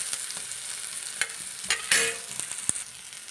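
Onion frying in oil in a pan for a restaurant-style palak chicken gravy, a steady soft sizzle with a few sharper crackles and stirring scrapes, close and alone with no talk.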